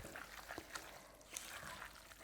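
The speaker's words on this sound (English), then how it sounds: "So I'm going to add water, but I'm going to do it over the heat" Water is poured into a thick lentil filling in a pan over the heat, a faint, close trickling splash that lasts throughout.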